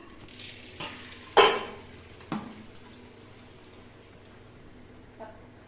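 Cooking oil heating in a pan for puri gives a low, faint simmer, broken by a few sharp clanks and scrapes of a utensil against the pan, with one loud knock near the start.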